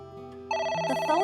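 A telephone rings in the video game AI: The Somnium Files, with a steady electronic ringtone starting about halfway through after a quiet lead-in, moderately loud and alone.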